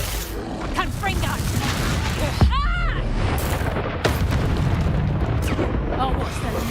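A fire spell explosion from the Hogwarts Legacy video game: a dense, rumbling blast with a sharp whooshing burst partway through and another crack later, over continuous loud combat noise.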